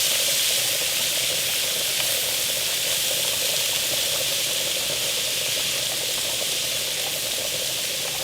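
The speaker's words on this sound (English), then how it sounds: "we're just going to let this cook now in that bacon grease" Leeks, carrot, onion, celery and garlic frying in bacon grease for a potato soup, a steady, even sizzle that holds throughout without pause.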